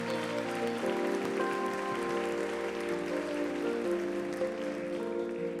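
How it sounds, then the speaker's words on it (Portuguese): A church congregation claps together during a family worship service, steady applause under sustained worship music with held tones, no voices standing out. "Dê mais uma salva de palmas a Jesus, então"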